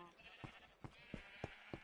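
Several short bleats from sheep on a farm in a Minecraft-style game, five evenly spaced calls at moderate distance over quiet background, no speech.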